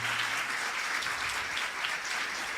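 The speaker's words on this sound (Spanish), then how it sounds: "Vamos a aplaudir al Señor desde lo profundo de nuestro corazón" A church congregation applauds, producing dense, steady clapping from many hands that fills the space evenly from start to finish with no talk over it.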